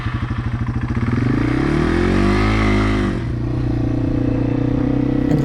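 A motorcycle on a beginner's first ride, the rider practising starting and shifting; the engine revs up in a rising sweep, then drops as the gear changes, steady and close with no talk.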